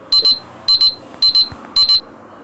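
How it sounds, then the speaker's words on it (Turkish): An alarm beeps in four evenly spaced pairs of short, shrill electronic tones, close and loud, over faint room background. "Alarm."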